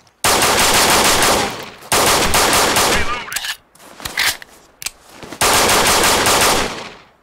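Heavy automatic gunfire from the 2011 Xbox 360 shooter Breach, loud sustained bursts of rapid fire broken by short pauses and scattered single shots between them.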